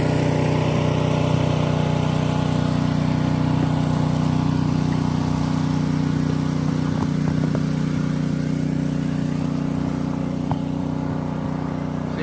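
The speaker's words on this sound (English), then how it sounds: "I ran that snowblower right up this ramp" A PowerSmart snowblower engine running steadily and loudly nearby, a constant droning hum with no pauses or voices for about twelve seconds.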